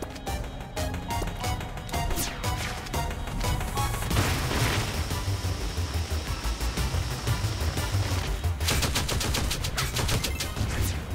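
Grenade lobbed during a Shantae and the Seven Sirens game fight, heard as dense, continuous blasts and gunfire-like crashes under loud game music with no talk.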